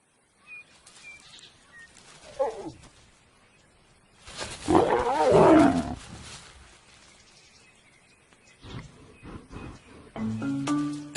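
Lions in the wild, brothers following a lioness in estrus, give a burst of low roaring and growling midway, quieter grunts around it, with faint bird calls and a voice speaking at the end.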